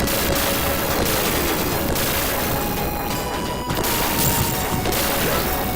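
Dense, continuous gunfire and explosions from the run-and-gun video game Gunstar Heroes, a loud barrage of rapid shots and blasts filling the whole stretch with no pause.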